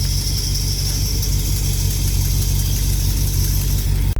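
A car engine idles steadily, loud and close, a constant low rumble with a smooth mid-range drone and no revving, no talking, until a brief cutoff at the very end.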